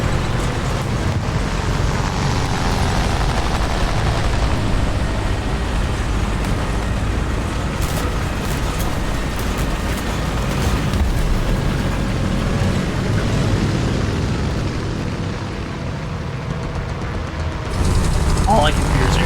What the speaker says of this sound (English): All I can hear is airplane engines.